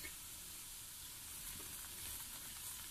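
Layered lachha paratha pressed down and roasted on a hot pan gives a steady, close sizzle and frying crackle that runs throughout, with no voices.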